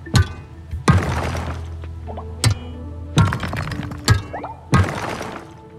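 A pickaxe strikes rocks in the video game Coral Island, six sharp cracking impacts spaced about a second apart, each with a brief crumbling tail, close and clear without talk.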